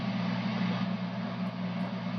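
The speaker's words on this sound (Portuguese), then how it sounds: "Que ele tem um ventilador que é bastante barulhento." A noisy radio transmitter cooling fan, on a Johnson Viking 500, whirs steadily with a low hum, a constant dense drone that neither rises nor falls and has no voices over it.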